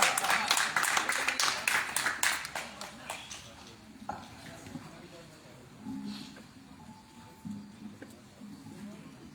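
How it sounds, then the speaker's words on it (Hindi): An audience at a Hindi poetry gathering applauds for the poet, a burst of dense clapping for about four seconds that thins out and fades, then quieter room noise with scattered sounds. "जोरदार तालियां बजाइए रूप सिंह हाड़ा"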